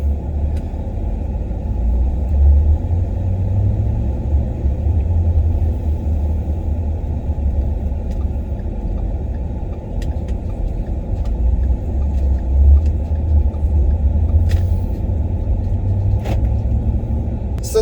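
Steady low engine rumble and road noise heard from inside a moving 2010 Ford F-150 Harley-Davidson pickup truck, continuous and unchanging, with faint rattles.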